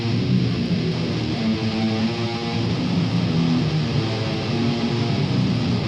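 A thick, buzzing fuzz guitar tone plays continuously and loudly, with a saturated, fuzzy texture throughout.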